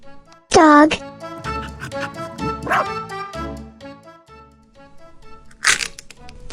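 A dog gives a sharp yelping bark, then a few shorter yips and whimpers at a moderate distance, over a background of bouncy music.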